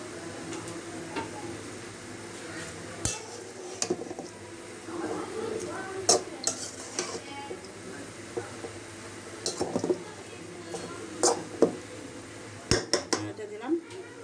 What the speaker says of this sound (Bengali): এখন একটু নাড়া দিয়ে দিব।